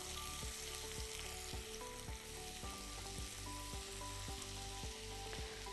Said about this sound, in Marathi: आणि याला छानपैकी एकदा मस्तपैकी असं सौते करून घेऊ